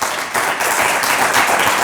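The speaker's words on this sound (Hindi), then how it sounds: "मैं आपकी और अपनी भरपूर तालियों में बताता चलूँ, सर रेहान अल्लाह वाला साहब।" An audience bursts into applause, dense and fairly loud clapping that keeps going evenly through the brief moment with no speech over it.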